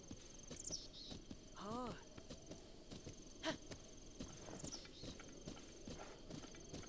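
A horse's hooves trot in clip-clop rhythm through ruins in Zelda: Breath of the Wild, a steady run of soft game footfalls under ambient wind and game sounds, with a brief whinny and short chime-like effects.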